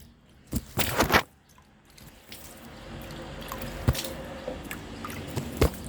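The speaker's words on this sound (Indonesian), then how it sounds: "Kita siram air, kita basahi dulu agar ini nanti dicabut itu mudah." Soil in a small pot of kedondong with peanuts planted alongside being watered a little at a time: a few close squishy splashes at first, then soft dripping and trickling water, with no talking.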